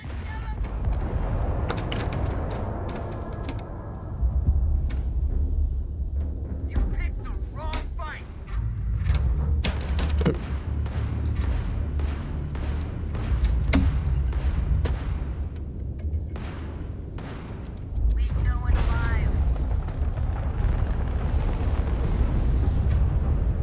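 Gunfire and heavy booms in the sci-fi game Starfield, with repeated sharp shots and dense explosive blasts sounding loud and close throughout, under occasional talk.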